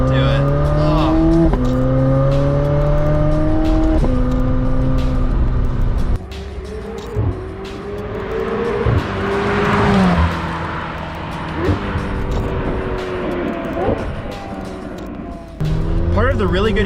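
A McLaren 750S Spider V8 engine revving hard through downshifts, loud rising and falling tones with sharp blips and crackle, heard from inside the car while someone talks over it.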